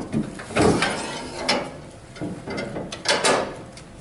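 Side door and seat clip of a Defender floor scrubber being opened, giving a few short mechanical clunks and latch clicks spread across the moment, close by with no talk.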